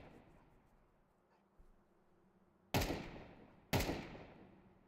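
Two sharp, loud blasts a second apart, each trailing off in a ringing decay, as a decoy grenade explodes and sets off a Molotov in Counter-Strike 2, after a quiet stretch with a faint thud.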